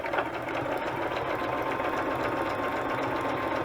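A sewing machine chain pieces scraps of fabric into tags, its needle chattering fast and steadily at close range for a few seconds. It runs on its own, with no talk.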